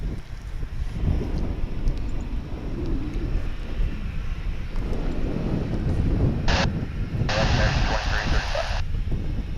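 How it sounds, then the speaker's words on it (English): American Airlines Boeing 737-800 arriving at Dallas/Fort Worth International Airport, heard as a steady distant jet rumble mixed with wind buffeting the microphone, with brief hissing bursts near the end. "This will be American Flight 1066 coming in from Mexico City."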